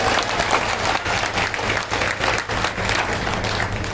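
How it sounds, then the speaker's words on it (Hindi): Thunderous applause from the crowd at a Valmiki community social conference in Gwalior, steady dense clapping for several seconds with a crowd murmur underneath and no speech on top. "अगर सहमत हो तो तालियों की गड़गड़ाहट से सहमति बताओ"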